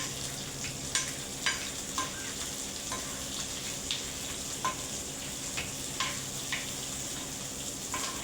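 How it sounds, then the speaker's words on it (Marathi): Chopped onion frying in oil alongside garlic already cooked golden brown, a steady close sizzle with light clicks of stirring every second or so, no voices. "छानपैकी भाजून घेऊ कांदा."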